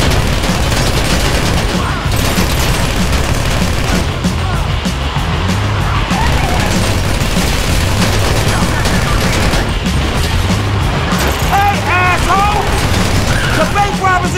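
Dense GTA V gunfire during a bank robbery shootout on a road, with heavy bursts and booms mixed with vehicle noise, loud and continuous throughout, under shouting voices and game chatter.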